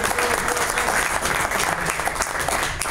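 Lunch-meeting audience in a restaurant applauds the members, a full, loud, continuous round of clapping from many hands with no talk over it.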